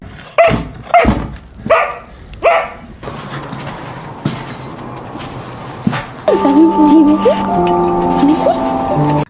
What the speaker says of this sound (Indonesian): dia mendengar anjing menggonggong